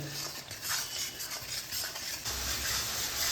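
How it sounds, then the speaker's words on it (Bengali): Spice paste being sautéed and stirred in a pan for vegetarian alu dum, with steady soft sizzling and scraping stir strokes throughout, close and moderately loud, no talking. "এই মশলাটাকেও এর মধ্যে ভালো করে কষিয়ে নেব।"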